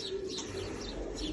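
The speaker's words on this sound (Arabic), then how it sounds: "حمام لحم فرنسي، صاروخ الاستثمار في مصر." French meat pigeons cooing in a loft, soft steady low coos with faint chirps over a constant background hum, quiet and slightly distant.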